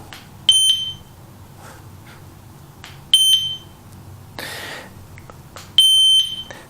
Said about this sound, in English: you had a beep like this